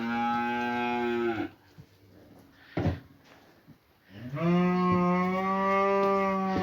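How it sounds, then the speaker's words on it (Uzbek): Cows on a farm mooing loudly and close by, two long drawn-out calls separated by a pause with a few clatters, the second moo fuller and longer. "Mana sigirlari"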